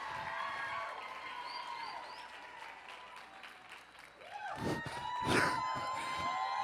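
An audience claps and cheers for a guest speaker named Tony Martinez. Steady applause swells into louder whoops and shouts near the end, with a ringing tone lingering over the crowd.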